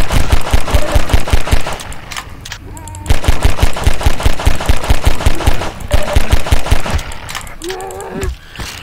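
Loud automatic gunfire in Half-Life comes in rhythmic bursts of rapid shots, broken by short gaps filled with clanks and mechanical game sounds.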